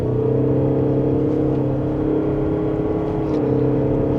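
Steady hum and whir of a 2026 Mazda CX-50 Hybrid Premium Plus pulling away in power mode from second gear, heard from inside the cabin, loud and continuous without a clear rise in pitch.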